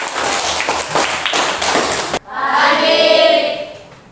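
A classroom of students clapping together for a presenting group, a dense burst of hand claps that stops abruptly, followed by quieter room noise with some voices.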